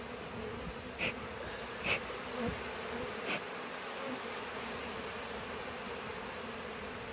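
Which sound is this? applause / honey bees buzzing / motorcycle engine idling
honey bees buzzing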